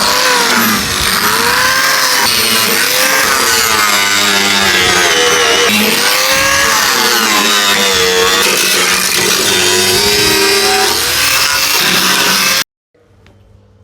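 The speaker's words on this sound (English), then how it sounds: "let me get this on the grinder and I'll start cleaning it up." Angle grinder fitted with a roll-lock wheel stripping old metal on a BMW E36 328 back to bare, a loud sustained high whine with shifting pitch as it bears on the panel, then abruptly stopping.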